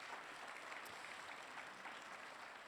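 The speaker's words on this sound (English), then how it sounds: "A round of applause" Audience applause at a scientific symposium plenary session, a steady wash of clapping from a crowd heard at a distance, moderately faint and unbroken throughout.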